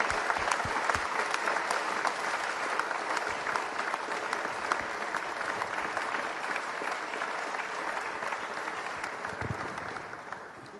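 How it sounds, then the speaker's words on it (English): Sustained applause from a large audience for panelists at a US-UK tech partnership event, a dense even roar of clapping that holds steady for about ten seconds before easing slightly at the end. "if we could just have another round of applause for our panelists"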